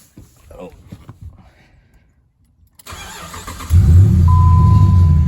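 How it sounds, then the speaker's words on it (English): A third-generation Ram truck's Hemi V8 engine with Flowmaster exhaust cranks and starts, settling into a loud, deep, rumbling idle after a few seconds of quiet background. "just the sound of these trucks, or the sound of the Hemi motor in general"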